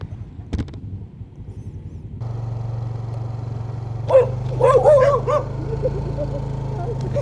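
A dog barks several times in quick succession, mid-distance, over the steady engine drone of a vehicle travelling along a rural road toward Bagsit River in Palauig, Zambales.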